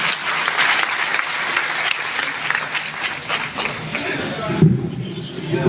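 Sustained audience applause at a poetry gathering (kavi sammelan) held on a memorial birth anniversary in Lucknow, a dense even wash of clapping throughout with a faint voice or two underneath.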